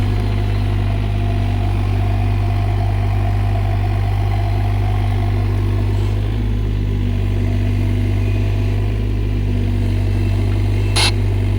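A mini excavator's engine runs steadily while moving dirt in a tight backyard during tree removal, a loud, constant low rumble close by with no talking.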